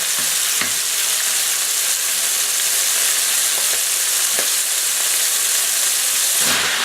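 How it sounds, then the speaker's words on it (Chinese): Fermented black bean sauce sizzles and spits steadily in a hot wok as it is stir-fried, a dense continuous frying hiss with occasional soft scrapes of stirring, close and with no talking. "把豆鼓炒一下，豆鼓酱炒了完以后，"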